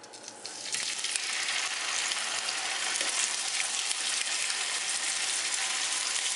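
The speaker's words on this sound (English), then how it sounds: "Hear that sizzle? That's exactly how hot you want your pan to be for these little fillets." Small fish fillets sizzle loudly in olive oil in a hot frying pan, a steady hissing crackle that jumps up as the food goes in and stays constant.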